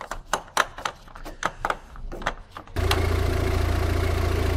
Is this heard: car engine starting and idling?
yes